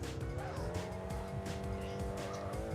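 Car engine revving and tires squealing while driving in the Street Racing Syndicate video game, a continuous close engine drone with skidding tire noise throughout.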